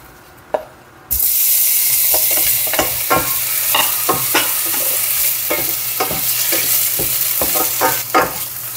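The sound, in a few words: sausage frying in a pan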